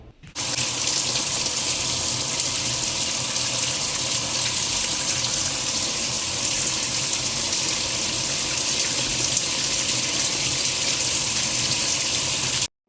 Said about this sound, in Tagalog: sige, maligo na muna po ako para makapag-prepare na ako ng maaga